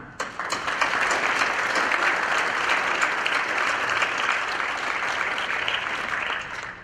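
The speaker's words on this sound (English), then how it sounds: "And you don't have to hold your applause." An audience at a high school National Honor Society induction ceremony claps continuously, a full, even wash of applause that swells at the start and fades slightly at the end.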